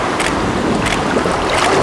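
Ocean waves wash in loudly at an overcast beach, a continuous roaring surge with wind, swelling in a few bursts and heard alone.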